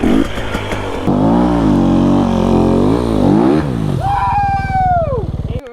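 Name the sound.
KTM 250 two-stroke dirt bike revving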